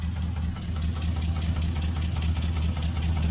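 A 1968 Chevelle Nomad engine idles with a leak, a steady low rumble with a fine rapid ticking pulse running through it, close and constant.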